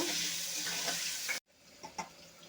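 Boiled small potatoes with salt and turmeric fry in hot oil, a close steady sizzle with stirring that cuts off abruptly, then quieter scraping sounds.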